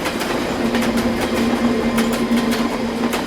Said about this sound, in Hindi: यहाँ आसपास कोई ट्रेन जाती है?